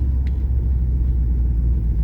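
A 1965 Pontiac Catalina Safari Wagon on the move, its engine a steady, loud low rumble with road noise from inside the car, continuous for the whole clip.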